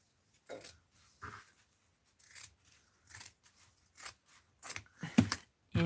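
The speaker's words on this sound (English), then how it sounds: "So let's just cut this in half" Scissors snip through paper in a series of short, crisp cuts with brief pauses between them, close and fairly quiet, no voices present.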